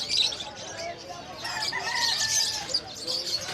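Many pet birds in a crowded market, including aqua and yellow-face Opaline parakeets, give continuous high chirps and tweets, steady and fairly close, with a faint murmur of people behind.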